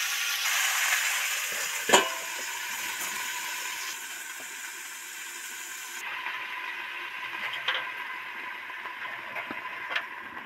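Snake gourd fries in a covered pan with a steady soft sizzle, punctuated by a few faint clinks and taps of utensils.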